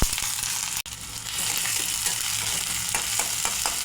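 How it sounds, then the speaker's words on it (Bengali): Chopped onion and garlic fry in hot oil with bay leaf and dried chili for a lentil and Malabar spinach dish, giving a close, continuous sizzle with stirring scrapes and a brief break near the start. "এই যে দেখুন, পেঁয়াজ রসুনটা আমি ব্রাউন করে ভেজে নিয়েছি।"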